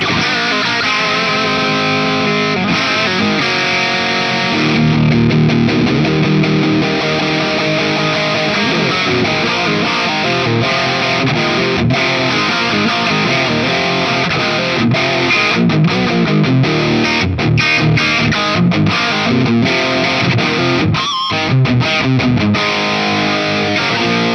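An electric guitar played through a Valeton GP-50 multi-effects unit with heavy distortion rings out loud and thick, with chords and notes sustained continuously for over twenty seconds and no voice.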